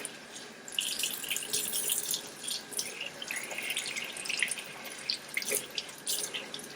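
A tap runs hot water in a workshop while a 2000 Ford F-350 is being coated, a steady splashing stream with irregular spatters and drips, close and moderately loud, no voices.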